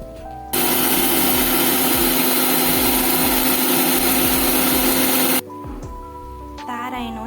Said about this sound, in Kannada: ಇನ್ನೇನು ಪೂರೈತೆ ಸಣ್ಣ ಪೊಡಿ ಮಲ್ಪುಗ